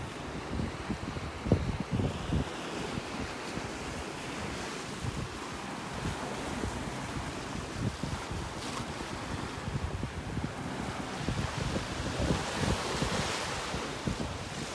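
Steady breezy wind rushes across a Florida Gulf beach on a chilly morning, with gentle surf washing in beneath it and occasional gusts buffeting the microphone throughout.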